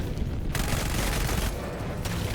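A Pelican dropship in the Helldivers video game strafes the ground, a dense loud burst of rapid gunfire and booms that pauses briefly and then resumes.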